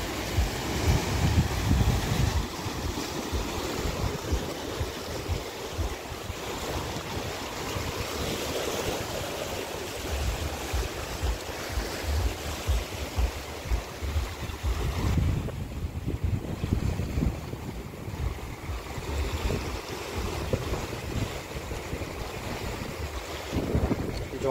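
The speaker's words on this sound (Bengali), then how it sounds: "এখানকার মনে হচ্ছে যেন আরো জোরে ঢেউ হচ্ছে, কারণ এখানে অনেক পাথর পড়ে আছে তো তার জন্য।" Ocean waves surge and break against scattered rocks at Vagator Beach in Goa, a continuous loud wash of surf mixed with steady wind buffeting the microphone, with no voices.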